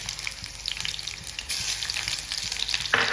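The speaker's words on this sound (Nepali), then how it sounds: "प्याज रातो हुन्जेलसम्म यसलाई भुट्नुपर्छ" Chopped onion sizzles in hot oil in a pan for an egg curry, a steady close crackle and hiss with occasional stirring scrapes and no talking.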